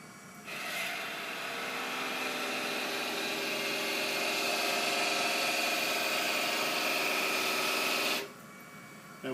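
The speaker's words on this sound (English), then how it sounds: "I have selected my ball cutter to add some texture to a cove" A wood lathe spinning at about 500 RPM while a rotary ball cutter textures a cove, giving a steady, loud abrasive whirring rasp that starts abruptly, holds for roughly eight seconds, then stops.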